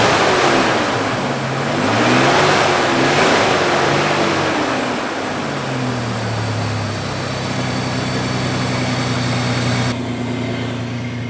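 A Toyota Tacoma pickup under restoration runs after a start attempt, its engine revving up and down in wavering swells before settling into a steadier, even drone, close and loud with no speech.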